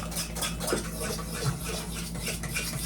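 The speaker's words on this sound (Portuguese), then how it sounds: "A gente vai continuar aqui mexendo todos os ingredientes." Gluten-free bread dough ingredients being stirred in a bowl make a close, steady scraping and clinking of a utensil against the bowl, continuous with small irregular knocks and no talking.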